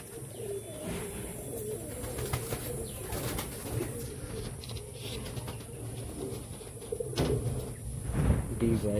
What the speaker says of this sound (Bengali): দেখুন পায়রা